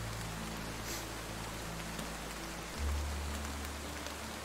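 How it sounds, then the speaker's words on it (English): Rain falls steadily in the video game Roblox Lumber Tycoon 2, a soft, even hiss of drops on surfaces that continues unbroken at a quiet level with a low hum beneath it. "it's 12 minutes of rain that you guys have been hearing"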